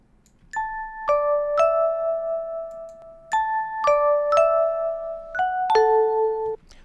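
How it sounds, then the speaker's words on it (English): A staggered, layered chime in which a lower note sounds just after a higher one, struck in two repeating bell-like phrases of several clear, ringing tones that overlap and sustain, close and alone with no talking. "I want to have this kind of like staggered effect, so the lower one plays a little bit after the higher one."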